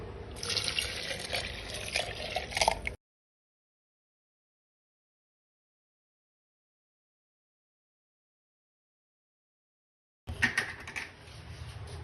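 Water poured into a raw mango (keri) sharbat mixture gives a close, splashing trickle for about three seconds, then falls silent before a second short burst of pouring near the end.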